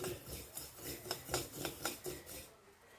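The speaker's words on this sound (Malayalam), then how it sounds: "ഈ പാത്രത്തിലേക്ക് കരിഞ്ചീരക ഇട്ടിട്ടുണ്ട് ഇത് നന്നായിട്ട് നമുക്ക് വറുത്തെടുക്കേണ്ടതായിട്ടുണ്ട്" Black cumin (kalonji) seeds dry-roasting in an iron pan, a steady dry scraping and rattling as the seeds are stirred, with repeated sharp brushing strokes close by and no talk.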